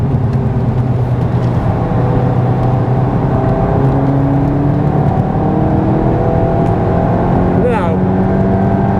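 A Volkswagen Golf GTI or Golf R on a hot lap of a race track, engine droning loudly and steadily with rising and falling gear tones, under an occasional voice.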